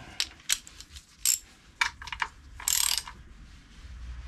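Ratchet wrench clicking as bolts are snugged up on a classic Mini A+ Series engine during a rebuild, several short bursts of close, sharp ratcheting with a longer run near the end, no talking.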